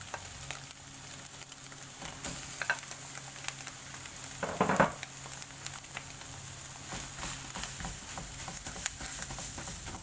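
Rice stir-fried with fermented pork (naem) over high heat, a steady close sizzle with occasional clatter and stirring scrapes.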